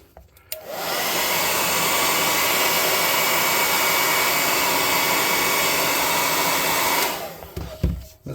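A hair dryer drying paint on a tabletop miniature roars on suddenly, holds a steady loud whoosh for about six seconds close by, then cuts off with faint handling noise after.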